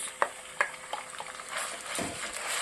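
Chicken hits a hot pan with a sharp sizzle, followed by steady frying crackle over high heat and a couple of clinks from stirring.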